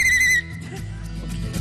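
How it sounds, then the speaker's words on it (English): A 3D-printed plastic whistle blown once in a short, loud, shrill tone that stops abruptly, followed by quieter room noise and faint murmuring. "And by the way, the whistle works."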